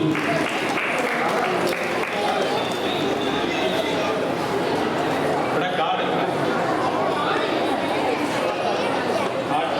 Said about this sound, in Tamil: கைத்தட்டல் அதிகமாக இருந்தால் நல்லா இருக்கும் குழந்தைங்களுக்கு